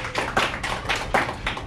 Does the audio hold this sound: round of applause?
yes